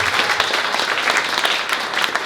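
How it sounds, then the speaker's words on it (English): A round of applause from the audience at a Drinking Liberally gathering, full and continuous clapping from a room of people lasting a couple of seconds. "Oh, round of applause first."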